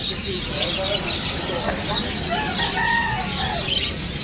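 Busy chorus of many birds chirping and calling at once at a pet market in Malabon, dense and continuous, with some crowing-like calls and voices murmuring underneath.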